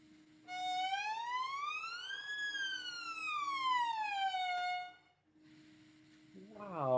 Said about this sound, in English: Ava, would you mind playing a glissando for us?